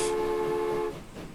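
Trains running in the Transport Tycoon video game, heard as a steady synthesized hum with a sustained horn-like tone that holds for just under a second, then cuts to a quieter, rougher rumble.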